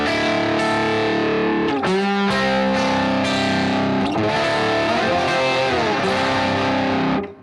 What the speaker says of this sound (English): here's the side that has the Dynaflanger on it